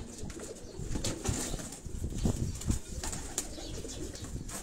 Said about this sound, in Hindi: ये सारे ब्रीडर कबूतर हैं